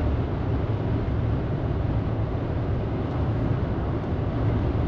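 Nissan Sakura electric car cruising at full throttle at 120 km/h, a steady, dense broadband road and wind roar inside the cabin with no voices, continuous and unchanging throughout.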